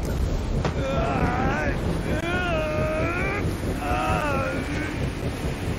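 Strong wind blows steadily in the Guardians of the Galaxy video game, a broad roaring gust with a voice talking over it at intervals.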